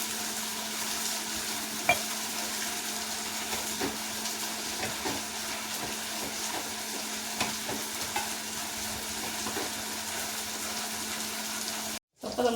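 Masala sautéed in a pan for a home-cooked dish, a continuous frying sizzle with repeated scraping strokes of a spoon stirring, close and steady, briefly cut near the end.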